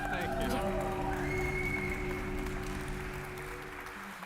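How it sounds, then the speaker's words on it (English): Attendees at a blockchain conference stage in Barcelona applaud a speaker, a broad wash of clapping and light cheering that slowly fades, mixed with steady tonal hum and a voice in the background. "Give him a round of applause."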